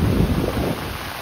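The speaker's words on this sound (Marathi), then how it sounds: "काय पाऊस सकाळी सकाळी" Heavy unseasonal morning rain in the Konkan, a loud dense roar of downpour mixed with gusty wind buffeting the microphone, easing slightly toward the end.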